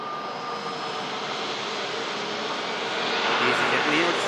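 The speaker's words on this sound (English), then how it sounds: "Gear goes up on the Virgin Atlantic 330. It dips in and out of the sunlight on the climb." A Virgin Atlantic A330 airliner climbs out after takeoff, its jet engines producing a steady broad roar that swells a little louder near the end, with someone talking over it.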